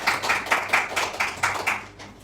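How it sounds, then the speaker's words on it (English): Audience at a PWAN business opportunity expo clapping for the company founders, a sparse, rhythmic run of about ten distinct claps, fairly close, fading toward the end. "So at least let's clap for them."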